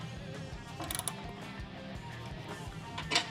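Wrench tightening a bolt on a Harley Softail gas tank, a quick rhythmic ratcheting click repeating steadily at close range, with a faint metallic tick near the end.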